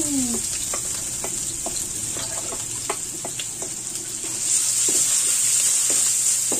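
Garlic and ginger sautéing in hot oil in a wok-style pan, a bright constant sizzle with repeated sharp clinks and scrapes of a spatula stirring, growing louder near the end.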